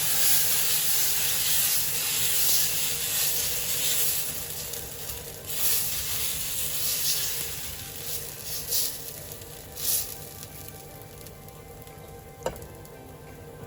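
Dosa batter made from mixed pulses sizzles and hisses steadily on a hot iron tawa over a stove, a dense close frying crackle that swells and eases with a few sharper pops.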